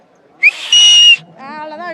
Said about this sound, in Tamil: ஒரு விசில் போடு.